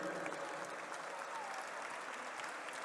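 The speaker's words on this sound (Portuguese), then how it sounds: "Vamos começar com a salva de palmas para a matemática" A crowd applauds steadily at a geometry class, a dense wash of clapping hands that holds at an even, fairly loud level throughout.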